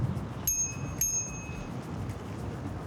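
A bicycle bell rings twice in quick succession on a busy bridge in the evening, bright metallic tones ringing out over steady traffic and crowd rumble.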